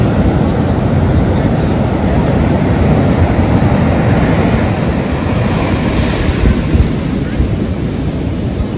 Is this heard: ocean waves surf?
yes